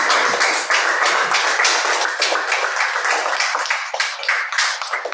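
Church congregation clapping together during a worship celebration service, a dense steady burst of many hands sustained for several seconds with no talk over it.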